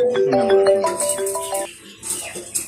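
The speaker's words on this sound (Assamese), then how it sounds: "ফোন কৰিলা কাকলি ফোন কৰিছে।" A bright electronic phone ringtone plays a quick melodic tune, then cuts off, followed by faint background noise and a short burst of sound.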